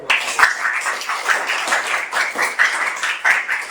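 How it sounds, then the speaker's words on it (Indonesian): A group claps continuously, a dense patter of hands sustained throughout at close range. "untuk pencapaian kita hari ini tepuk tangan dulu ya"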